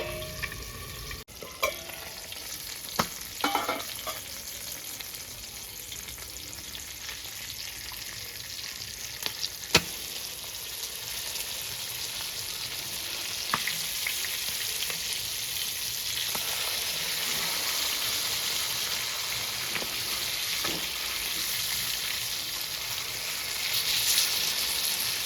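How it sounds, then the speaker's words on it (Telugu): Marinated fish pieces fry in a hot pan for a fish fry, giving a continuous dense sizzle that holds steady for a long stretch, broken by occasional sharp clicks and spatters. "ముందుగా కలిపి పెట్టుకున్న చేప ముక్కల్ని వేసుకుంటుందా."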